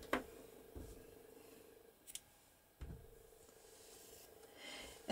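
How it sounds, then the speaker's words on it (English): Scissors snip through yarn during crochet work, giving a few faint, separate close-up clicks and cuts with quiet pauses between them. "and cut the yarn."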